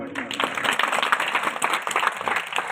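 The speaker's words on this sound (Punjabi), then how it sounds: "ਇੱਕ ਵਾਰੀ ਉਹਨਾਂ ਦੇ ਤਾੜੀ ਮਾਰੋ" A seated audience claps together for eight children who practise sports every day, at an anti-drug awareness seminar in Mahindipur village near Nawanshahr; dense, steady applause fills the room throughout.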